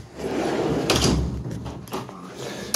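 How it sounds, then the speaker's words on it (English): An indoor door is pushed shut on a room where two dogs are fighting, a rumbling slide followed by a couple of knocks and bumps, fairly close, with no talking. "So let me close the door on that."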